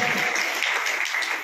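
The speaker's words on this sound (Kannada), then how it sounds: "ಚಪ್ಪಾಳೆ" A crowd at a felicitation ceremony for guests and artists breaks into loud, dense applause. The steady clapping fills the moment and fades slightly at the end.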